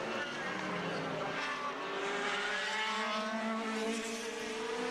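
A Formula 3 race car screams along the track, its high engine note sustained and rising as it closes in at the end of a straight and into a corner, loud and continuous with a faint voice underneath.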